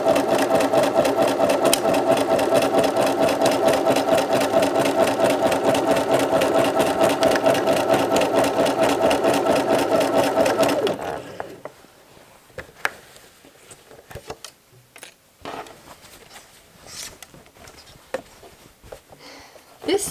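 A sewing machine stitches the seam of a casual skirt with pockets, running in a steady, loud, fast rhythmic chatter for about eleven seconds, then stopping abruptly, leaving faint handling clicks and rustles.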